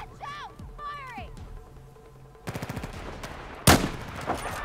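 Video game gunfire in Battlefield 4 on the Tashgar level: a short rapid burst of shots followed by one loud blast, after bird-like whistling tones and quieter background sounds.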